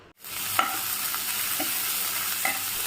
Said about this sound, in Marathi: आता ह्या सर्वांना मी हलकं हलकं हलकं म्हणजे जोपर्यंत त्या भाजीमधला कच्चापणा जात नाही तोपर्यंत भाजून घेईल ते पण मोठ्या गॅसवरती